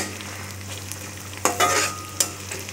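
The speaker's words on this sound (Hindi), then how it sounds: "ओनियन की भी कटिंग कर लिया है बारीक बारीक। इसको ऑयल में डाल लिया" Finely chopped cabbage and onion frying in a little oil, a low continuous sizzle under a steady hum, with a couple of brief bursts of crackling and a stir against the pan.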